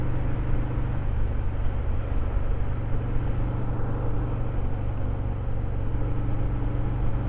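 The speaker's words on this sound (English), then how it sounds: "bike's running good" A motorcycle engine runs smoothly with a low, even rumble that holds steady from start to finish. It sounds close, with no voices.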